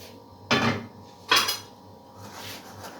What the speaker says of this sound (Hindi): इस तरह से ये सारे छोले मैंने ये एक बाउल में इस तरह से निकाल दिए हैं।